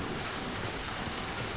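Steady rain falls in the video game Mass Effect 2, a dense, even hiss of downpour with no talk over the short stretch.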